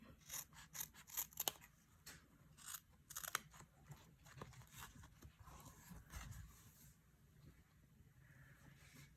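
Scissors snip and crunch through fabric in a quick series of close cuts, followed by softer rubbing and handling sounds.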